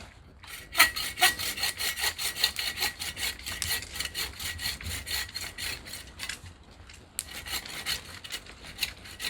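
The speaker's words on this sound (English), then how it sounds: "just taking all the limbs off the tree so it's easier to work with" A hand saw rasps through a tree limb in steady, rhythmic back-and-forth strokes, close and loud outdoors, with a short pause before the sawing resumes, as limbs are cut off a tree for a cooking tripod.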